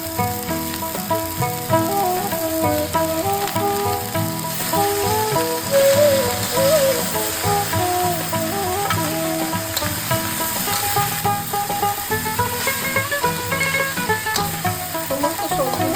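Drumstick (moringa) flowers sautéing in a pan with salt and vegetables, a steady close sizzle and frying crackle lasting throughout with faint stirring scrapes underneath.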